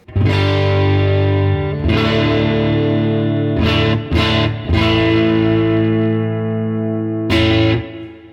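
A heavily overdriven Laney LC30 mk1 electric guitar amp rings out sustained distorted chords, each struck hard and left to ring, with a few quick restrikes in between.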